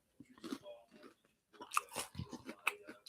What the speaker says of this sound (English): You also hear the crunch.